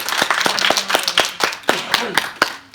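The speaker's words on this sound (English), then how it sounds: "Now give yourselves a big clap." Children clap along after a picture-book reading, a run of about ten uneven, separate claps, fairly close, with a little talk mixed in.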